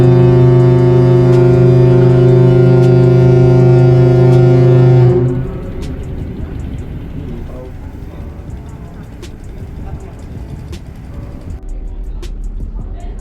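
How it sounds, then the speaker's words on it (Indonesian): A passenger ship's horn, the KM Kelud at sea, blasts loud and sustained for about five seconds, then cuts off, leaving steady engine and wind rumble underneath. "Di sini KM Kelut beberapa kali membunyikan klakson karena banyak nelayan"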